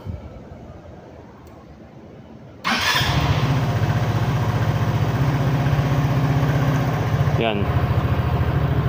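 An Easyride 150FI motorcycle is kicked into life after a brief voice and a quiet stretch. The engine catches abruptly and settles into a steady, close, even idle, with a short squeak partway through.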